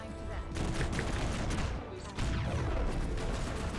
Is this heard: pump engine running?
no